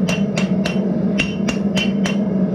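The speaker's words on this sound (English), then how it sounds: "just slowly tap it and then keep working it around your anvil" A hammer taps a metal hotdog fork against an anvil in seven sharp, ringing strikes at an irregular, steady pace. The strikes are heard close up over a constant low background hum.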